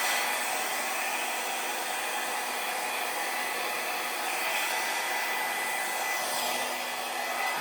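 A hair dryer blowing on an acrylic pour painting: a loud, steady, continuous airy whir held at one level throughout, close to the microphone, with no talk.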